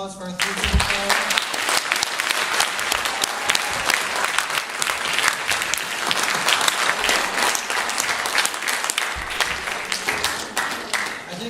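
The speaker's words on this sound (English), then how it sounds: "We have one more round of applause for our 3 superstars." A school audience applauds three middle school student award winners, a loud, dense and steady wash of clapping that fills the whole stretch, with faint voices mixed in.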